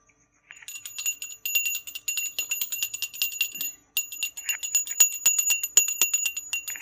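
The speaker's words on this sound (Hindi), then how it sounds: "भोग हमेशा घंटी बजाते हुए लगाना है" A small hand bell rings rapidly and continuously during a puja food offering of halwa, bright close metallic jangling in fast bursts with a brief pause midway, no voices.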